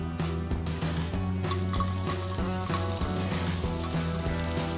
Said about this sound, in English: now that you have put in the butter, we'd like to put in some garlic to add the flavour